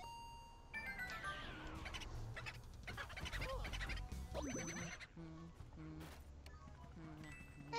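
Bird calls in the video game Luigi's Mansion: a burst of warbling, gobbling chirps over busy game music and effects, with a voice talking now and then.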